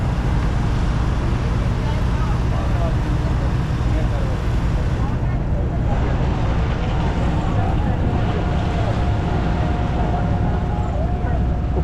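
A boat's engine churns steadily as it reverses to turn on the water, a constant low drone mixed with wind buffeting, fairly loud and unbroken.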